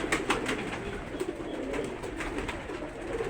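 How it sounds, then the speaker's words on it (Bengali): Pigeons on a small pigeon farm of about 150 pairs coo steadily and softly, close by, with overlapping throaty calls and no talking. "এখন মোটামুটি 150 জোড়ার মতন কবুতর রয়েছে।"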